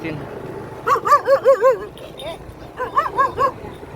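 Dogs chasing a vehicle bark in two quick bursts of several rhythmic yaps each, fairly close, over low background noise.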